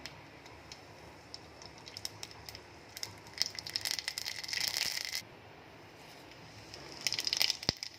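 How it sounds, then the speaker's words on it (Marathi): Mustard seeds crackle and pop in hot oil in a pan, a faint steady patter that swells into denser sputtering bursts, ending with a sharp click. "तेल गरम झालेलं आहे त्यामध्ये पहिली मोहरी टाकलेली आहे"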